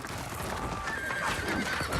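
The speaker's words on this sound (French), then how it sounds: "3000 chevaux qui foncent sur des fantassins." Cavalry horses charging in a film battle scene, a horse whinnying loudly over a confused rumble of hooves, close and intense across two seconds.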